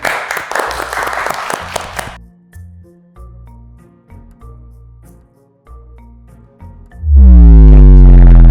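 Brief, loud audience clapping at a visual communication design video-branding competition event, lasting about two seconds before giving way to sparse electronic tones and then a loud, sweeping synth blast.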